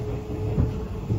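Kintetsu semi-express train bound for Gose, crossing over the JR Hanwa Line and passing its first station, heard from on board as a steady low rumble with soft swells and no voices.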